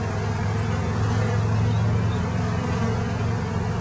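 A steady, low buzzing hum of many honey bees fills the air continuously during a beehive rescue, close by and unbroken.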